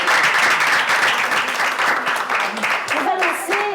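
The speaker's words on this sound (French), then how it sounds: "on peut t'applaudir" An audience at an art-world talk event applauds with dense, loud clapping that begins to thin out toward the end, while a voice briefly sounds over it.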